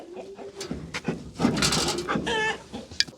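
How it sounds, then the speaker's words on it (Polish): Chickens cluck and squawk in short, overlapping bursts close by, with a brief sharp cry near the end. "Dobra, mamy dziewięć kur."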